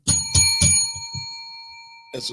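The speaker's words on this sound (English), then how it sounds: "bell ring. That's a bell ringer." Several quick bell strikes ring out, the last one left to ring and fade, followed by a short burst of sound.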